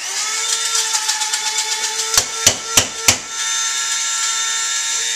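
Cinnamon being ground in a blender for a fruit smoothie with banana and blueberries: a steady whirring drone with a few sharp knocking bursts in the middle, then the motor hum running on alone.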